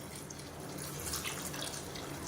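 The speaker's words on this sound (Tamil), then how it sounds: "இப்போ இதில் தேவையான அளவு தண்ணி சேர்த்துக்கலாம்." Water poured into a cooking pan while a side dish is prepared, a soft steady splashing stream, faint and close, heard alone.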